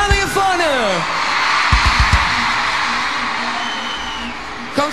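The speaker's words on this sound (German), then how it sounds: "Großen Applaus bitte für die junge Dame hier vorne." A crowd at a concert cheers and whoops in a loud, sustained wash of voices, with a few yells rising above the noise.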